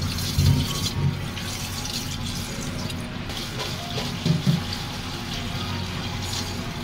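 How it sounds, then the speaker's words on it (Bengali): Fresh jamun fruits being rinsed in water, with a steady running-water wash and a couple of soft splashing bursts, close and moderately loud, no talking. "জামগুলো এখন আমি ধুয়ে নিব।"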